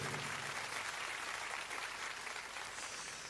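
An audience at a business awards ceremony applauds partner companies, a steady wash of clapping heard faintly and at a distance throughout.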